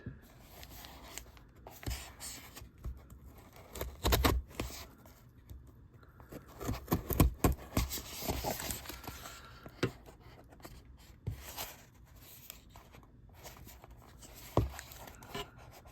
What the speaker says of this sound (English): let me take my handy dandy artist ruler that slices through this tape like butter